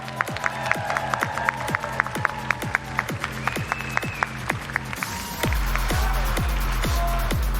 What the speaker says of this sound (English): one more big round of applause for everyone you see coming back on stage